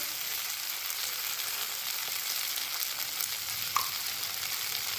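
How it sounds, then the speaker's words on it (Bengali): A tomato, ginger and green chilli paste cooks with green peas in a kadai for potato curry, making a soft, even frying hiss throughout, with one tiny clink near the end and no voices. "টমেটো আদা কাঁচা লঙ্কা বাটা দিয়ে আমি এটা খানিক্ষণ কষিয়ে নিয়েছি এখানে এবার দিয়ে দেবো কড়াইশুটিগুলো"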